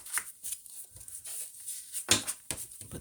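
Tarot cards are shuffled by hand in a quiet room. The soft, faint riffling and patting comes in short irregular bursts with brief pauses between them.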